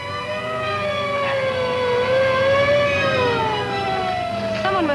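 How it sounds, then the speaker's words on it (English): A loud wailing siren rises and falls in long sweeping tones, continuous and close, with traffic rumble underneath. "Someone must have called an ambulance."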